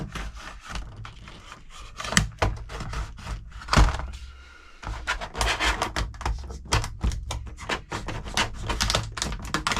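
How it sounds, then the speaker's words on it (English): The packaging of a Magnusson 2-in-1 folding jabsaw is opened, giving close, irregular crinkling, tearing and tapping noises with occasional heavier thunks and a brief pause partway through. "we'll just open up this packaging"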